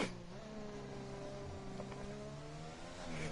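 A Formula 1 race car on soft-compound tyres in a racing video game at the French Grand Prix, its engine holding a steady, high, buzzing whine with slight pitch shifts, close and continuous with no talk.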